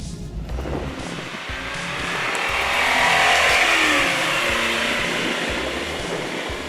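A 1985 Lamborghini Jalpa driving along, its engine a broad steady roar that swells gradually to a peak mid-way and then eases off slightly, heard from inside or close by with no talk.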